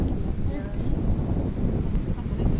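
Wind blows steadily at the seaside, buffeting the microphone in a constant low roar with faint voices underneath.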